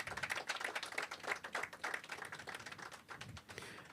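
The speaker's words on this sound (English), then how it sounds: "So an applause for Her Excellency the Governor." A small crowd at an outdoor ground-breaking ceremony claps for a governor, a dense patter of hand claps that stays fairly quiet and distant before thinning out.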